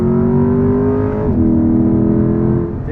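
A 2021 Chevrolet Corvette Convertible Z51 engine pulls up through the revs, its pitch dropping abruptly at a quick manual upshift before climbing again, loud and close from inside the car.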